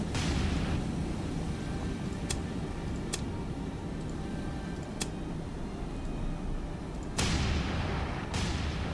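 Ship guns fire in the naval combat game War on the Sea, a few sharp, separate booms spaced seconds apart over a constant low rumble of engine and sea noise, with no talking.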